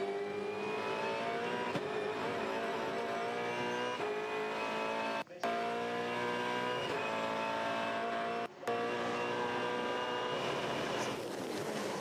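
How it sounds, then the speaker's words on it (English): Onboard a V8 Supercar racing at the Australian Grand Prix, the engine roars loud and close with rising revs, sharp gear-change cuts and steady high-pitched drive, nearly continuous throughout. "Let's listen here on board with Whincup."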